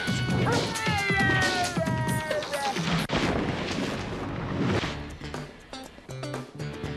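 A tabby cat meows several times, loud and close, with bright tonal calls in the first seconds, then clattering knocks and thumps follow in busy fragments.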